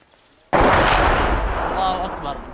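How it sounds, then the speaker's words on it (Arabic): Heavy shelling hits houses in the village of Jamleh in Daraa, a sudden loud blast after brief quiet that is followed by a long, rumbling roar that slowly fades. "قصف عنيف على بلدة جملة. الله أكبر، قصف يستهدف البيوت."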